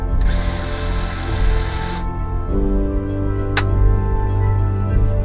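A Graco Ultra handheld paint sprayer pump priming with pump armor, running as a loud steady motor whine with a hiss, then cutting to a lower mechanical hum with one sharp click partway through.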